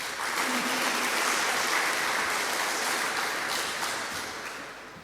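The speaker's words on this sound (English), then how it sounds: "I think Brimstone needs another round of applause" An audience at a sports athletic club launch event applauds with a sustained wash of clapping that swells early and then gradually fades toward the end.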